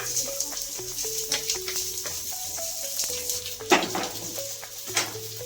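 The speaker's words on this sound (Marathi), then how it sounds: "खोबरं भाजून झालंय, आता आपण कांदा भाजून घेऊया" Onion roasting in oil in a pan, with a soft sizzle under repeated clinks and scrapes of a utensil against the pan.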